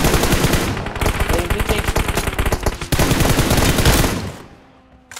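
Rapid, loud automatic gunfire in a competitive team shooter video game rattles in dense bursts at close range, fading out near the end while a player speaks briefly over it.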